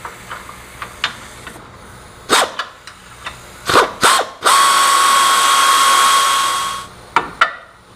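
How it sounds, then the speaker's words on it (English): Control arm bolts on an ATV are removed with tools, with sharp ratchet clicks and clanks, then a loud whirring burst of an impact or power tool lasting a couple of seconds, followed by more clicks. "I'll just take these two bolts out and then we can remove the bearing carrier."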